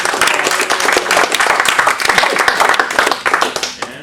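A round of applause from a Django District meetup audience at a talk on frontend and search, hosted by Sunlight. Dense, loud clapping comes from the room throughout and thins out at the very end.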